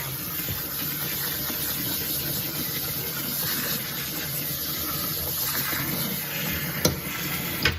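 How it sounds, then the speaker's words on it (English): Water pouring into a pot with vinegar while braiding hair is cleaned, a steady hissing gush that runs the whole time with a couple of brief knocks near the end. "So that was me adding more water to it"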